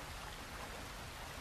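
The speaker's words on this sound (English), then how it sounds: "So it's just a normal day in Red Dead Redemption 2. It's raining." Steady rainfall in the open world of Red Dead Redemption 2, a dense, even hiss of falling rain with no distinct drops standing out, faint and continuous throughout.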